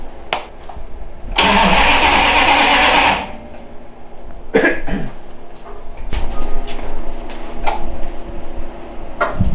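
A Plymouth Duster's engine cranks with a broadband whirring for about two seconds, then stops without catching as ignition drops out in the start position; a few clicks and knocks follow in a quiet garage.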